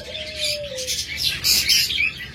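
An olive opaline pair of budgerigars kept as pet birds chirps in quick, bright, scratchy bursts close by, with one thin whistled note at the start and a busy chatter of twitters after.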